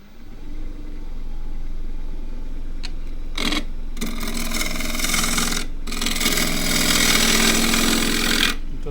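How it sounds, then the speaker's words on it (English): A 1/2 inch spindle gouge cuts old, dry Kauri pine on a running lathe. Loud rasping cuts of several seconds each rise over the steady hum of the motor, close by, with brief pauses between passes. "there we go with the 1/2 inch spindle gouge as usual"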